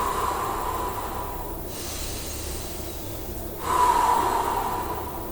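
Steady breathing in and out during a leg-strengthening bodyweight workout, a soft continuous airy hiss with a louder exhale swell near the end, close and unaccompanied by talk.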